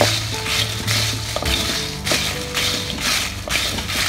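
Kabsa spices dry roasting in a pan over a low flame, with a steady faint sizzle and repeated stirring scrapes and taps of a utensil against the pan, close and continuous with no talk.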